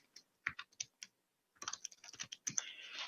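Typing on a computer keyboard: sparse separate keystrokes at first, then a quicker burst of clicking after a short pause, close and fairly quiet, with no voices.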